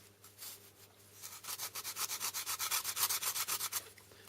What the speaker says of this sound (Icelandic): það er mjög þægilegt að nota svona smá spýtu sem maður er búinn að líma sandpapír á